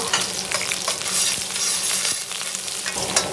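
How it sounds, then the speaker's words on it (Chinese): Scallion and ginger hit a little hot cooking oil in a wok, giving a dense, crackling sizzle with spatula scrapes and stirring throughout, close and steady. "锅不用洗，直接再加上少量的食用油，放入葱姜，先给它爆一下香。"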